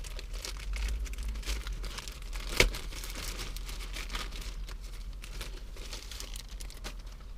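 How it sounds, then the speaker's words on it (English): Plastic film peeled and crinkled off an activated-carbon cabin air filter for a 2013-2016 Hyundai Genesis Coupe, a steady close rustle with one sharp crackle partway through. "Take a little plastic film off."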